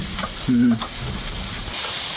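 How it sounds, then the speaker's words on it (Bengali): Okra drops into oil spiced with ginger, garlic and cumin paste, giving a close, bright frying sizzle with stirring scrapes and a brief tonal clatter from the pan. "এবারে ঢেঁড়সটা এর মধ্যে দেবো ওই সাউন্ড আসবে মনে হলো"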